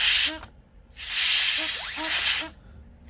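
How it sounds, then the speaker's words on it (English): Compressed air duster sprayed into the vents of an HP Pavilion 15 laptop, two close, loud hissing bursts separated by a short pause, with faint whirring underneath. "I'm just gonna use this air duster and then we'll spray here."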